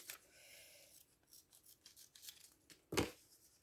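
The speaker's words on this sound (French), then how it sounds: "Je vais essayer de bien couper un petit morceau." Scissors snip quietly through a small piece of craft material for a handmade Christmas letterbox, with a string of soft cuts and rubbing and one sharper, louder snip near the end.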